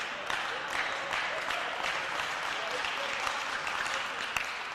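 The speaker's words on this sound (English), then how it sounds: "Slow clap starts on the side of the Matadors." Bench players clapping in a steady rhythm at a volleyball match, a continuous rhythmic patter of hands under a commentator's voice.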